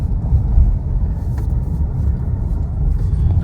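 A Mahindra XUV cruising along a highway toward Srinagar on a nonstop drive, its steady low road and engine rumble filling the cabin, loud and continuous throughout.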